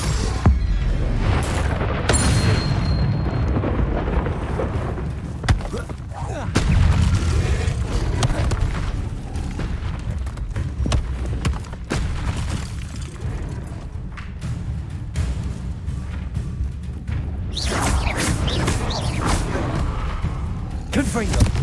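Spell blasts and explosions in the video game Hogwarts Legacy: repeated heavy booms and crackling bursts, loud and close, spread through the whole stretch while a voice calls out over them.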